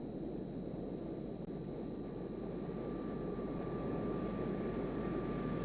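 A steady, muffled roar of jet engines and airflow fills an F-4E Phantom II cockpit during aerial refueling from a KC-135 tanker, unbroken and even throughout, with faint high whines above.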